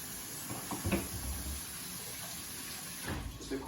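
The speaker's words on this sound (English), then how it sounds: "Just a quick rinse" Water running from a tap for a quick hand rinse in a kitchen: a soft, steady splashing flow with faint clattering, fairly quiet and alone.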